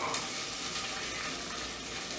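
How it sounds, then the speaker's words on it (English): Garlic scapes and chili flakes sizzle and crackle in a pot, a soft, steady frying hiss with no voices. "You hear that sizzle?"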